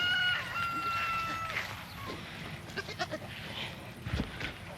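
Goat bleating on a working homestead, several short calls mixed with chicken or rooster sounds in the background, moderately near, with people talking nearby.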